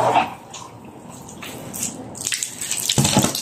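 Water is poured to bathe a sick chicken in a backyard, starting as soft trickles and splashes and then swelling into a louder, gushing pour near the end.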